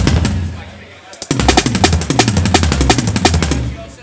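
A drum kit with round-robin toms is played fast on an Akai Force, producing a dense, loud rattle of rapid hits after a brief quieter opening, with the strikes packed tightly together like a roll.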